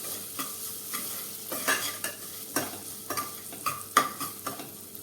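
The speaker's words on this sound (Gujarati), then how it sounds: "બધું આપણે મિક્સ કરી દઈએ" Sabudana khichdi being stirred in a pan: repeated scraping strokes at an irregular rhythm over a low sizzle, close by, with no talking.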